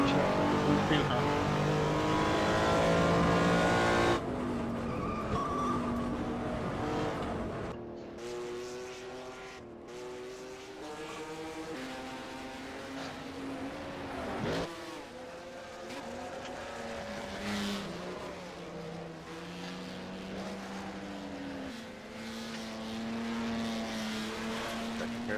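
Race cars at Bridgehampton in a historic sportscar sim racing game: loud engines rev and whine through gear changes, one car close and dominant with others passing, and a voice talking at times.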